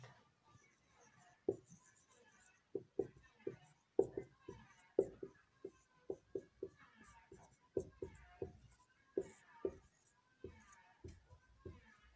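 A formula is handwritten during a class 10 statistics lesson, with close, irregular scratchy strokes and taps coming in short bursts and pauses.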